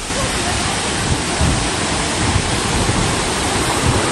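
Coban Rondo waterfall in Pujon, Malang roars loudly and continuously, a dense close-up rush of falling water with no other sounds standing out.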